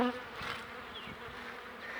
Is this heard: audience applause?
no